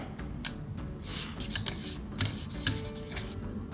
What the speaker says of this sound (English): So we've just set the angle and start sharpening.